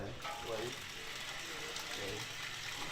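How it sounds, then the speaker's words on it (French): Water gushes steadily from a tap at a drinking-water supply point, a soft continuous rush with faint clicking mechanical sounds underneath. "Donc maintenant, l'eau coule à gogo."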